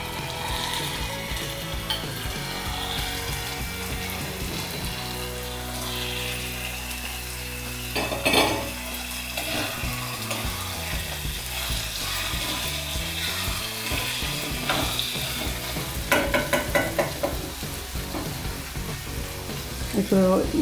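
Prawns sizzle steadily in a frying pan for a prawn curry, with repeated scraping and clinking as they are stirred, louder rattling bursts near the middle and end, and faint music underneath.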